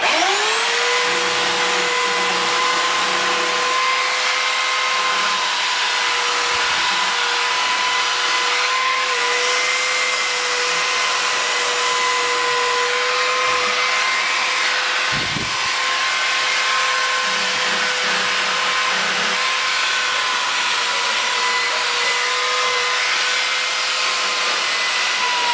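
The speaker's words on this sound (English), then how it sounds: "the easiest way to do that is grab a belt sander" A belt sander whines steadily and loudly throughout while rounding the corner of a wooden garden chair, a constant high-pitched drone with brief dips where the sanding pressure changes.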